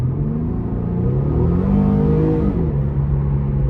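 A 2015 Infiniti Q50 Sport with a 3.7 V6 accelerates from a start in sport mode, its engine note rising in a steady, close, loud rumbling drone from inside the cabin.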